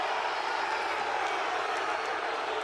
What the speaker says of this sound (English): Crowd really getting on Bailey here